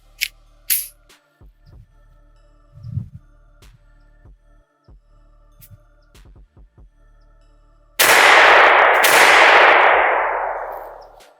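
Ruger LCP II .22LR pistol firing CCI Stinger rounds: after quiet clicks and handling noises, two sharp, loud shots a second apart, each ringing off with a reverberant tail.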